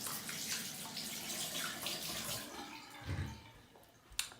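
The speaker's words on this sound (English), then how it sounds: "So I'm going to wash my hands." Water runs steadily from a tap into a sink while hands are washed beneath it, a close continuous splashing rush with small sloshes and a brief knock near the end.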